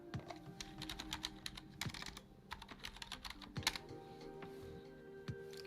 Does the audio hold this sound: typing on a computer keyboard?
yes